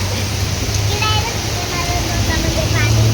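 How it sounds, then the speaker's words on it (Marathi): Heavy rain with hail pours down in Nashik as a loud, constant broadband roar of falling water, with vehicles faintly passing and a voice partly audible under the downpour. "बघू शकता किती पाऊस चालू आहे नाशिकमध्ये."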